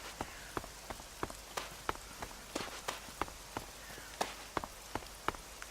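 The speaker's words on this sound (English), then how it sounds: "Lovely rainy day." Rain falls in the video game Elex, a soft steady patter with distinct irregular drop ticks and taps, close and crisp over a quiet hissing bed.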